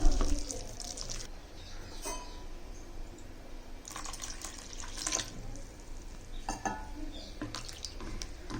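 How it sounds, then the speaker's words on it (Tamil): One cup of wheat flour with a little salt is stirred with water for dosa batter, producing intermittent wet sloshing and scraping bursts against a bowl, separated by quieter pauses, close up with no talking. "கோதுமை மாவை நல்லா கலக்கி எடுக்கணும்."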